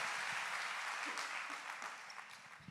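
Congregation clapping steadily in a church, a dense continuous wash of applause that fades slightly toward the end.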